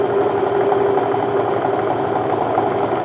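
A sewing machine stitching quilt pieces for a half-square-triangle pattern, a loud, steady, fast mechanical whir running continuously, close and alone.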